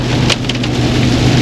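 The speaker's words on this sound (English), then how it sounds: "this rain ain't lit up yet. It's still coming down." Heavy rain pouring down outside a house under remodeling, a steady loud hiss of drops striking surfaces, with a couple of brief sharper splashes or clatters near the start.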